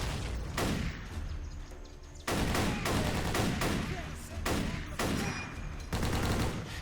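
Rapid bursts of video game gunfire cut down an advancing wave of enemies, sustained loud volleys firing in repeated clusters with brief gaps between them, with no talking over it.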